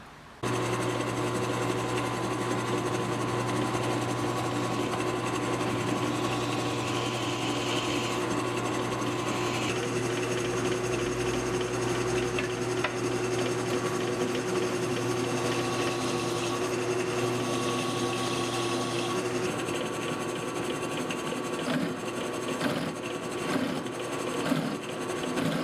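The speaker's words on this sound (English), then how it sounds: "and then I'll be ready to drill the holes in it." A drill bores holes in a mosaic Damascus steel EDC cleaver blade, a continuous loud whining motor drone with a grinding metallic edge that holds steady throughout.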